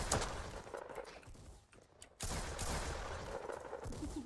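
Gunfire in the Roblox game Da Hood comes as sharp cracking shots and bursts, a loud volley at the start, a brief lull, then another dense stretch of firing, with no speech heard.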